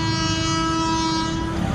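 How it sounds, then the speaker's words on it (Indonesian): KRL commuter train on a sharp bend near Cilebut sounds a loud, sustained horn blast as it passes close by, the steady honk held for nearly two seconds over rumbling wheels. "klakson mulu ya guys."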